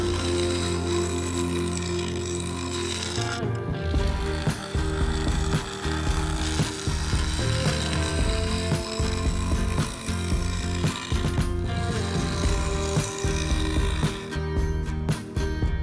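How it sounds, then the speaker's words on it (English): A woodturning lathe spins a yew vase while a carbide tool and then a negative-rake scraper cut and blend the inner surface, giving a loud continuous scraping, chattering cut with a steady motor hum and rhythmic pulses from the tool contact. "Carbide came out to clean up the resin joint, then it was onto a small negative rate scraper to blend and fair the inner surface"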